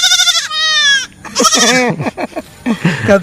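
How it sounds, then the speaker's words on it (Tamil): A goat bleats loudly and close by on a rural farm, with several wavering, nasal cries in succession, some overlapping with brief human voices. "ஆடு மணிக்கே கத்துறாரு அண்ணன்."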